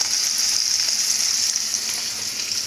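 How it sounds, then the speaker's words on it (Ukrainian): Fish fillets, some coated in flour and some in breadcrumbs, frying in a pan with a constant loud, bright sizzle and crackle that holds evenly from start to finish, no voices. "І ну, ось жарю."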